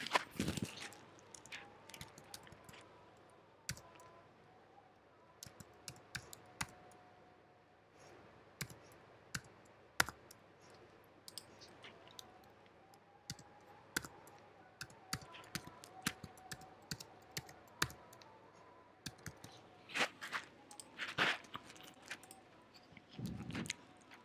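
Typing a username and password on a computer keyboard, light scattered key clicks at an uneven pace, faint and fairly close over a quiet room hum.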